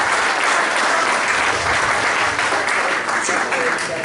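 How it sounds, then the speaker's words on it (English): At a football club's 50th anniversary function, an audience gives a loud, continuous round of applause. The dense clapping holds steady for the whole stretch. "everybody here should give themselves a round of applause for all that they've done"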